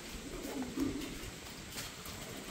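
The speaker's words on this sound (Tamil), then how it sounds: "புறாக்கள் ஓரளவு முட்டை போட்டு குஞ்செலாம் இறக்கி நல்ல செட்டிலாக இருக்குது" Pigeons coo softly in a farm loft where the birds have laid eggs and hatched chicks, a few low murmuring calls under steady background hiss.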